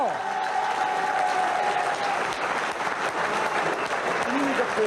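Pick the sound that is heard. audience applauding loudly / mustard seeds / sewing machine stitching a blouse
audience applauding loudly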